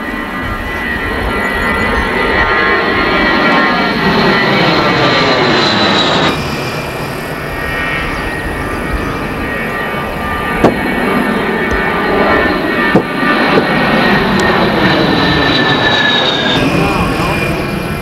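An A-10 jet aircraft taking off at Volk Field, a loud sustained turbine whine and roar with shifting high-pitched tones, close and dominant throughout with a few sharp clicks.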